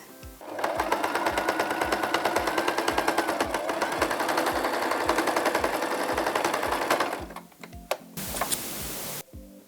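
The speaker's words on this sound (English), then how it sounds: "Now we're going to sew the last bit." A sewing machine runs fast and steady, stitching the last section of fabric in a loud, rhythmic mechanical patter. It stops after about seven seconds, and a short burst of rustling noise follows. No one speaks.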